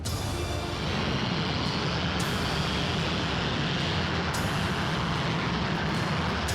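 A jet aircraft roars loud and continuous during a flying demonstration, a dense steady engine rush that holds throughout with no voices.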